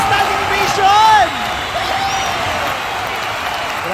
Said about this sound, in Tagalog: Standing ovation mula sa ating mga hurado!